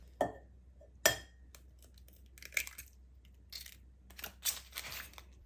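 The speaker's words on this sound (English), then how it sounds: "So for our eggs, I'm going to break in 4 eggs." Four eggs cracked one after another into a measuring cup, sharp close taps and clinks of shell on the rim in separate bursts, with small wet drips between them.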